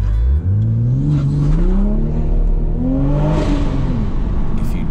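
A BMW-sourced 3-litre six-cylinder in a Toyota Supra MK5 revs loudly and close up, its pitch sweeping up and down through several smooth throttle blips over a steady engine drone, with no talking.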